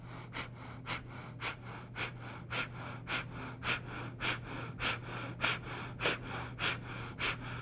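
Rapid yoga breath-of-fire breathing during a backbend routine, sharp forceful nasal exhales repeating about twice per second in a steady, close rhythm alone without talk.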